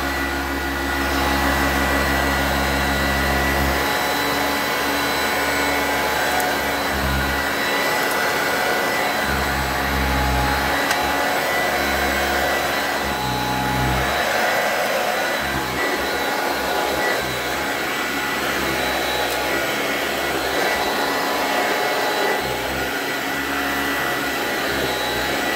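A Singer System 90 upright vacuum cleaner with worn motor bearings runs continuously, a loud steady whine and rumble holding for the whole stretch with slight shifts in tone as it moves.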